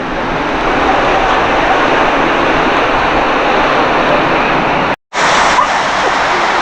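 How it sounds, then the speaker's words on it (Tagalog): Heavy sea waves pounding the shore in Quezon Province during a typhoon, a loud unbroken roar with wind noise, cut by a brief dropout near the end before the surge resumes. "lakas ng alon ngayon"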